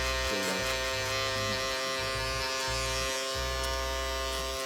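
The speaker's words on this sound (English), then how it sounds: "just get the shaper in there" A barber's electric shaper buzzes steadily while trimming a hair neckline, close and continuous, its motor pitch dipping and rising in short stretches as it works along the neck.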